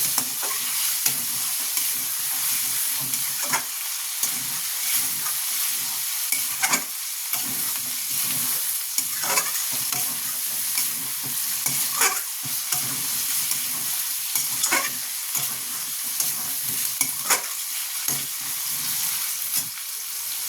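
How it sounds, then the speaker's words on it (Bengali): Chicken stew sautés in a pan with a constant loud sizzle, punctuated by repeated scrapes and knocks of a spoon stirring the mixture, close up and with no talking. "এবার এটাকে কষবো।"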